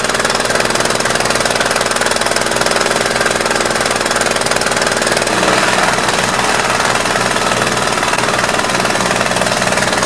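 Multiquip Mikasa MVH-206GH hydraulic-controlled plate tamper runs steadily throughout, a loud continuous rattling, pounding vibration close by with a slight shift in tone midway and no voices.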